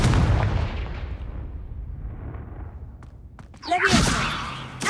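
A Confringo fire spell goes off in Hogwarts Legacy: a sudden whooshing burst near the end, preceded by a decaying rumble. It is fairly loud against quiet game ambience.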